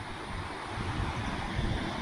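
Wind roars steadily past the microphone beside a river in the Carpathian mountains, a loud, continuous broadband rush with gusty low-end buffeting and no talk.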